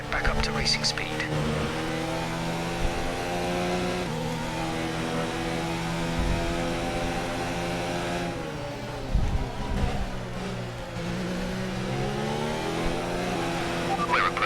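Formula 1 cars accelerating in the racing video game F1 2019 at the Australian Grand Prix: sustained high-pitched engine whine with rising and shifting tones, a fairly constant level with brief dips around gear changes, and no talk.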